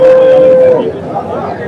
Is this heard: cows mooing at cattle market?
yes